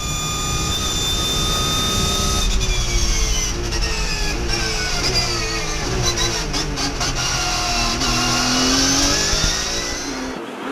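Race cars, including Porsches, roar past one after another at the Val de Vienne circuit, engines revving and dopplering continuously with a loud, steady drone throughout.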